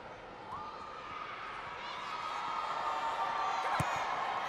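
A crowd at a Women's Super League football match between Leicester City and Chelsea swells into a broad roar of cheering that builds toward the end, with a commentator's voice over it.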